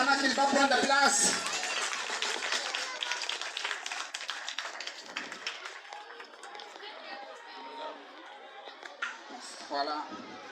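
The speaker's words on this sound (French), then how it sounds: "Que je vous demande d'applaudir" Audience at a school key-handover ceremony claps and cheers, strongest at first and then thinning into scattered clapping amid crowd chatter and voices.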